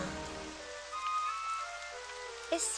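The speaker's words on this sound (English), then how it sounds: "I mean, it's still raining." Rain falls steadily in the Dragon Quest XI video game, a continuous soft hiss over faint tonal game music, with a brief brighter sound near the end.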